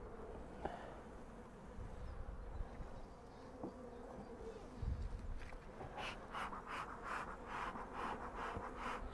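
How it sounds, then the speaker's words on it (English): Honeybees buzzing steadily around hive frames and a feeder, a dense close hum that swells and grows busier toward the end, with faint handling knocks underneath. "So plenty of bees up in the feeder, but obviously they've consumed all of that."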